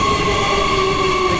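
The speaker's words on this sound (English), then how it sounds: "It's here, the train's arriving." A late-night train arriving at Bayswater station in Perth, loud and close, with a continuous rumble and steady, high-pitched wheel and brake squeal that lasts throughout, with no voices.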